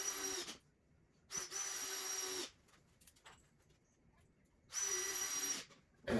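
Power drill driving screws into a door header, three loud bursts of whirring separated by short pauses, with a faint voice in between.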